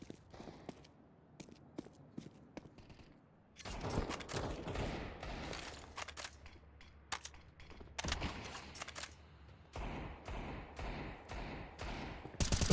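Pistol gunfire during a Counter-Strike match, with scattered sharp shots early, then dense bursts of rapid shots, footsteps and clatter building toward the end, no talk.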